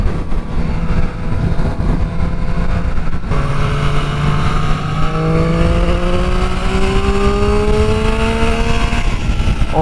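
A Triumph Street Triple 765 being ridden on a snowy Arizona road, its engine loud and close, climbing in pitch through several rising revs as it accelerates through the gears, with no talking.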